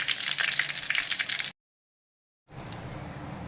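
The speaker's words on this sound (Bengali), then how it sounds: "গোটা গরম মশলা গোটা জিরেটা ভাজা ভাজা হয়ে গেছে" Whole cumin and whole garam masala fry in hot oil with a close, dense sizzle that cuts to a second of silence, then picks up again more softly.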